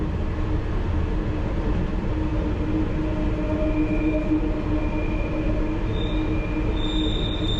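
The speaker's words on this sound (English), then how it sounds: "Obviously it's the wheels catching the rail when it's tight." A London Underground Piccadilly Line train runs on a tight downhill curve, with a steady loud rumble of the carriages and thin, sustained wheel squeals rising over it, growing more prominent toward the end.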